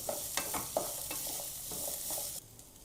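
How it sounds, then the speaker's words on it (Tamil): Small shallots and large onions frying together in a pan for chutney, a close, crackling sizzle broken by several quick scraping stirs, then a sudden drop to a quieter hiss near the end. "இது நல்லா செவக்க அளவு வறுக்கணும்"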